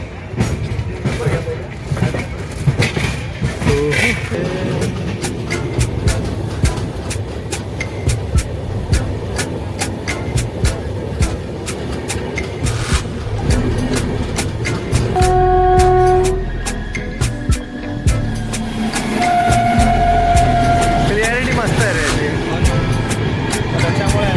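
A Nashik to Mumbai train rumbles steadily along the down line tracks with continuous rolling noise, and a horn-like tone sounds briefly midway and again near the end.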